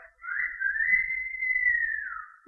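A person whistles one sustained, slightly wavering tone that starts and trails off cleanly over a few seconds, close and clear against an otherwise quiet background.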